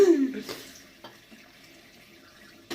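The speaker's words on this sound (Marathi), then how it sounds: "अरे हे काय नळाला पाणी आहे." Water runs steadily from a household tap at moderate loudness. A brief voice-like sound opens the clip, and a couple of soft knocks occur as the flow continues.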